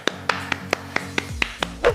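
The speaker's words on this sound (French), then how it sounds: "On applaudit Christophe." Eight evenly spaced hand claps ring out close and crisp, a slow steady rhythm from a single person, ending in a brief murmur of sound.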